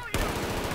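Rapid L85 rifle gunfire in the video game Battlefield 4, loud, with close dense automatic bursts beginning after a brief quieter moment and continuing to the end.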